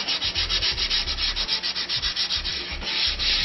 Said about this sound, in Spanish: Pero con la lija lo vamos a pulir muy bien.